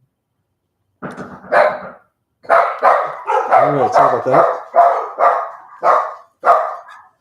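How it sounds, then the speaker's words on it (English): Several dogs bark repeatedly at a knock on the front door of a home, a run of loud, close barks in bursts, with a person briefly talking at the start. "So we're going to have dogs barking for a couple seconds."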